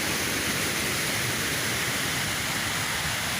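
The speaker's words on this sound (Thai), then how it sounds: "อันนี้พา พาท่านผู้ชมมาเที่ยวน้ำตกเจ็ดสาวน้อยกันนะครับ" Jed Sao Noi waterfall in Thailand roars in a dense, constant rush of falling water, loud and close, with no voices over it.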